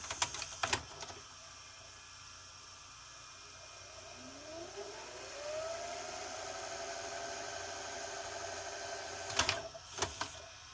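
A 1994 RCA Hi-Fi VCR, model VR-674HF, that has eject problems rewinds a tape. Mechanical clicks and clunks open and close a quiet whirring motor whose pitch rises steadily as it spins up in the middle.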